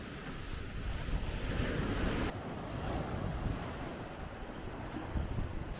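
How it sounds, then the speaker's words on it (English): Big surf crashing onto a beach at Nerja on Spain's Costa del Sol, with strong wind roaring across the microphone as a storm builds; steady, loud wash of waves and gusts throughout, with no voices. "The waves are starting to get really big and it's gotten really windy"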